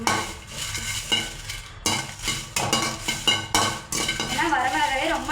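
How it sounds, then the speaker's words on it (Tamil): Dried red chillies being roasted in a dry pan, with loud repeated scraping and clattering of a spoon against the metal over a faint crackle. "வரமிளகாயை நம்ம நல்லா வறுத்து எடுத்துக்கலாங்க."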